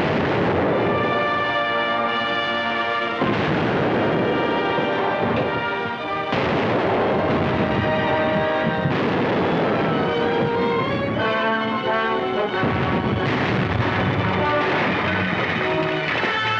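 Cannon fire in a naval battle in a 1936 film: dense, continuous booming artillery volleys rolling one after another, loud and saturated, with heavy low rumble throughout and no clear speech.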